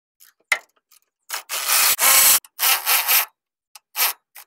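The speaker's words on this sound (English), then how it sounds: "For those three nuts, we're using a 14mm socket." A socket wrench ratchets on the strut nuts of a 2007–2017 Toyota Camry, loud close rasping bursts of varying length with short gaps between them.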